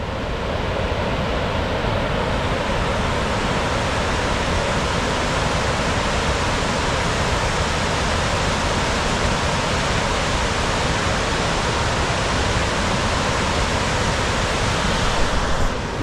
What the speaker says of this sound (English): That is an insane amount of water coming over that.